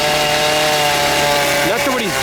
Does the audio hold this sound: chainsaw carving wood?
yes